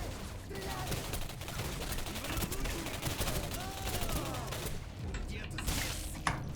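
Gunfire in the first-person shooter Singularity, a dense run of repeated shots and combat noise over game ambience, with one sharper blast near the end and faint voices in the mix.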